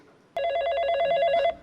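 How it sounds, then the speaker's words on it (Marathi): A telephone rings in a steady electronic trill, one sustained burst of rapid repeating tones, loud and close, alone without talk. "हे बघा, त्यांचाच फोन आला आहे."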